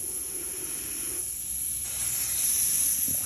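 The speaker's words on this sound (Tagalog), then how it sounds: "Ayan na, sumingaw na. Ang lakas ng singaw." Air hisses steadily and loudly out of a car tire being repaired, a continuous close sharp rush that swells slightly toward the end.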